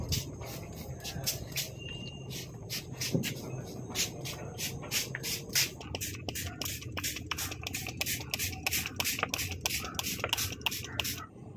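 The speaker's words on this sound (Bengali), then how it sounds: "শুধু পাতাগুলোতে জল দিয়ে দিচ্ছি" Rapid, regular spray bursts mist water onto plant leaves, a long series of short hissing pulses close by over faint background sounds.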